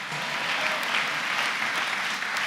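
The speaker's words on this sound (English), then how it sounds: "Clap those hands beautifully for Master Jesus Christ." A church congregation applauds together, a dense, steady wash of many hands clapping that holds evenly throughout at moderate loudness, with no clear voices on top.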